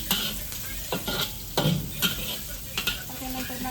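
Chopped onion, cabbage and fried paneer sizzle in a pan as a utensil scrapes and stirs in short irregular bursts, close and fairly quiet.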